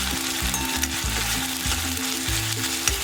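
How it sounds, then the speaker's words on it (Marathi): Garlic paste frying in a pan over low heat sizzles steadily, a dense close hiss with occasional stirring scrapes and no talking. "तर लसूण पेस्ट पण आपण व्यवस्थित भाजून घेऊया"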